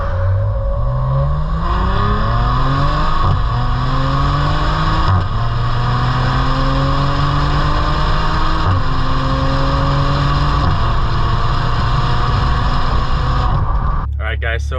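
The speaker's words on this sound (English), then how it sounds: "Literally every single time that it upshifts, it makes this like grenade popping sound." A 2020 Maserati Levante SQ4 accelerates hard through repeated upshifts, its engine climbing in rising sweeps that drop back at each shift, with pops at the changes, loud and close, while a person talks over it.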